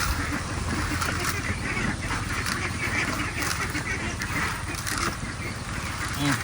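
Domestic ducks (itik) crowding a feeder as a mash of kangkong, azolla, feeds and corn is set out, a dense continuous chorus of quacks and honks close by, steady and loud throughout.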